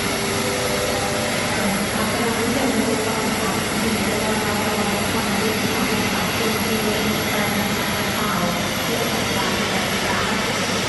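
Continuous loud rumbling and rattling of a train passing close by in Thailand, a dense steady roar that fills the whole stretch.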